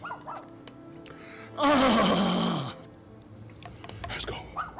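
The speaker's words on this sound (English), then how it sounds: "Hush, doggy." A dog gives one loud, drawn-out bark or whining yelp lasting about a second, close and distinct against quieter background voices and small noises.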